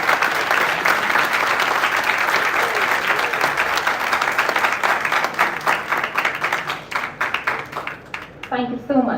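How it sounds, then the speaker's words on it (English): A crowd applauds steadily and loudly, the clapping thinning toward the end as a voice begins to speak over it. "So, if somebody has to deserve an applause"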